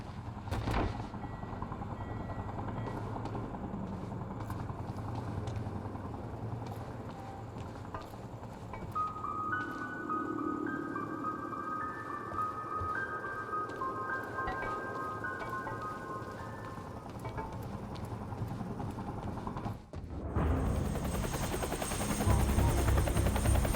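A helicopter flies overhead in the video game Quantum Break, a steady, loud rotor-and-engine drone that holds throughout and swells noticeably louder and closer near the end.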